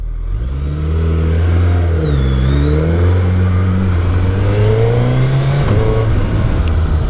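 A well-known, recognisable motorcycle's engine revving loudly and close, holding a steady drone with pitch rises and falls as the throttle is worked, no talk over it.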